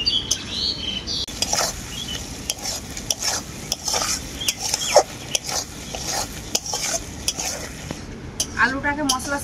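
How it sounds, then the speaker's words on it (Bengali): Fried potatoes being stirred with spices in a pan, steady scraping and stirring strokes over a soft sizzle, close and continuous. "আলুটাকেও আমি মশলার সাথে কিছুক্ষণের মতো কষিয়ে নেব ভালো করে।"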